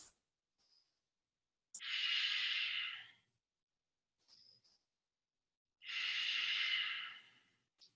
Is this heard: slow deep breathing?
yes